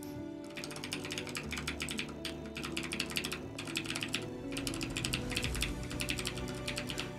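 Rapid AI-generated keyboard typing clatters continuously, with dense fast key clicks in bursts separated by brief pauses, close and steady over a faint low hum, with no talking.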